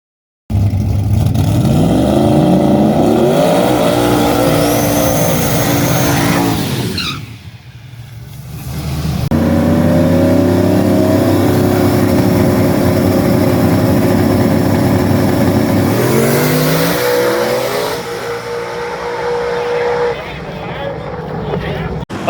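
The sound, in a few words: drag race car making a pass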